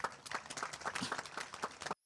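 An audience applauding a director general at a ceremony, a dense burst of many hands clapping for about two seconds before cutting off abruptly.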